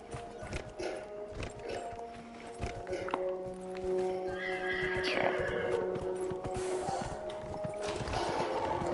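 Horse hooves clip-clop in a steady walking rhythm in Dragon Age: Inquisition, with a whinny partway through, over game ambience and someone talking.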